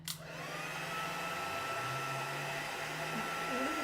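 A handheld heat tool blows hot air in a steady, continuous whoosh with a faint motor hum that shifts slightly in pitch. It starts abruptly and stays loud and close throughout.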